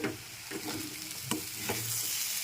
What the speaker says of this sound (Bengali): ঢাকনা দিয়ে লো ফ্লেমে রেখে তরকারিটা প্রায় ভাজা ভাজা করে নিয়েছি